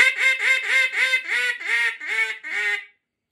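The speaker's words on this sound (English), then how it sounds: "that's what guys are doing with these duck calls to kill mallard ducks" A Big Bore mallard duck call blown in a series of about eight loud, nasal quacks, close and clear, steady at first then running into a quicker string before stopping.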